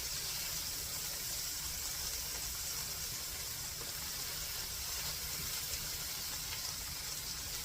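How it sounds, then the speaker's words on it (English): Barbecue sauce simmering in a pan for burgers gives off a steady, even hiss with faint bubbling, unbroken and moderately quiet throughout, with no voices. "I'm going to let it simmer for a minute before we do anything else to it"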